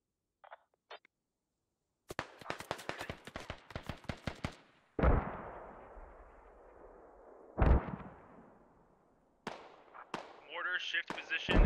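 Explosive mortar impacts and gunfire in a squad-based military video game bunker battle: a rapid string of sharp blasts, then deep booming explosions with long rumbling decay, and further bursts near the end.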